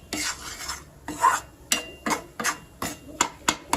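Wheat flour being roasted in ghee for Gujarati sukhdi is stirred by hand, with rhythmic rasping scrapes of a spoon against the pan repeating about every half second, close and fairly loud.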